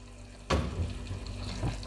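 Brain (maghaz) pieces slide into hot cooking masala with a sudden sizzle, then gentle stirring and a second soft burst of frying, close and steady.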